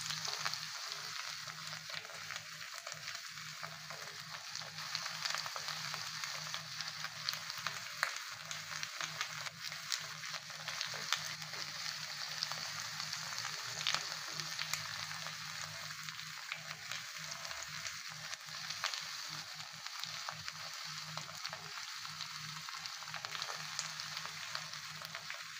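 Pieces of calbasu fish fry in a pan with a steady, dense sizzle that stays constant and close throughout, with no talking.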